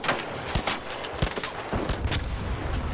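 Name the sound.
Renegade rifle shooting Bombardier legs in Arc Raiders video game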